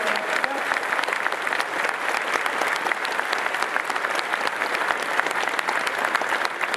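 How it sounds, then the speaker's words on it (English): A large crowd applauds charity donors at a convention closing ceremony, a thick, continuous roar of clapping that holds at an even level for several seconds. "So give yourselves a round of applause"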